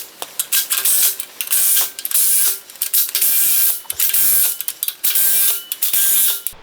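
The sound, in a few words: ratchet tightening bolts on new shock absorbers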